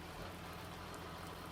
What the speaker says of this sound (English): Really wasn't expecting it to rain this early on